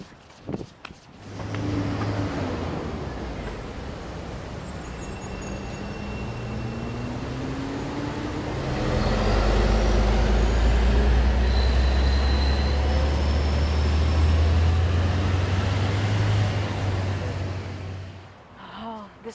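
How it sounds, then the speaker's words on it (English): A large bus rumbles in and pulls up, its deep engine drone building and holding loud and close for several seconds with hissing and whining overtones before fading away. "Oh, hey, Arnie, is that our bus?"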